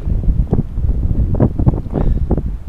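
Strong wind gusts blast against the microphone in loud, irregular low rumbles, rising and falling in quick bursts.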